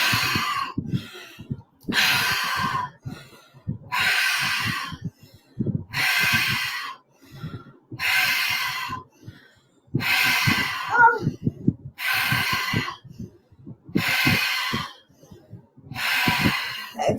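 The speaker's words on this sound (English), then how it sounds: "a cycle of 11 breaths through the mouth, out the mouth" A breathing exercise of repeated deep breaths in and out through the mouth: nine strong, close, loud breath cycles in a steady rhythm about every two seconds, with short quiet gaps between them.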